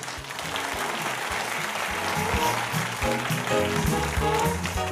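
A studio audience claps for a guest arriving on a Brazilian talk show, dense continuous applause at an even level throughout, fairly close, with a faint voice underneath.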